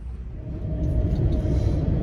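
An Auto Trail Expedition 67 pop-top campervan drives along country lanes in Cornwall, its engine a steady low rumble with road noise, close and continuous without talk.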